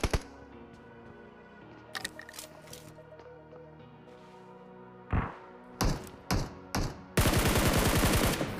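AKM assault rifle firing in the video game BGMI, a few separate short bursts and shots before a sustained rapid automatic burst at the end, loud and close over game background noise.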